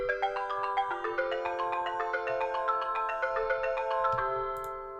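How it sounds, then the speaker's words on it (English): An arpeggiated bright FM vibraphone layered with mallet and marimba tones ripples in a quick up-and-down pattern of bell-like notes, steady and close, thinning out as the final notes fade. "It's the Mallet's Bright FM vibraphone layered with the Pretty Mallet and Marimba"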